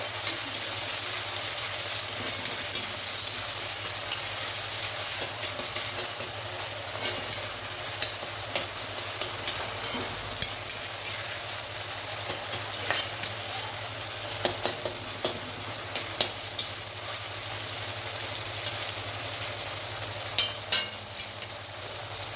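A large tomato being sautéed and deep-fried with brinjal in a pan, continuous oily sizzling punctuated by frequent sharp scrapes and taps of a spatula being stirred, no talk.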